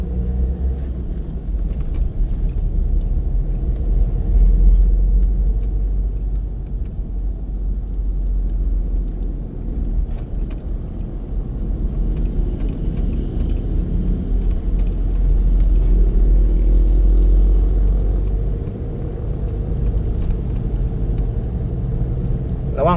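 Cars and motorcycles passing on a road after overnight rain, a continuous loud low rumble of traffic that swells and fades as vehicles go by, close to the listener with no clear talking.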